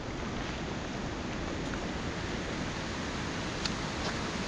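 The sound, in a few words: waterfall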